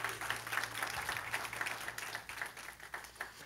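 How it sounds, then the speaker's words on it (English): A church congregation claps and applauds after a sermon segment, a steady wash of many hands at moderate distance, fairly faint, continuing evenly for a few seconds. "Give him a round of applause."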